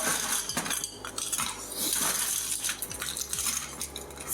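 Ice cubes clatter and clink into a metal cocktail shaker while a Bloody Mary is made, a dense run of hard rattling knocks close by with no talk.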